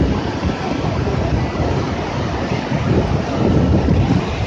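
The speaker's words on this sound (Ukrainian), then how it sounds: "холодно, вітер дує." Steady, strong wind roars against the microphone with continuous buffeting noise and no talking.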